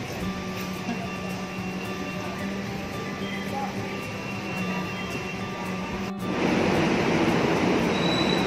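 Steady rumbling of an MRT metro train at Ayala station in the Philippines, with a continuous roar that swells louder near the end, under background station noise.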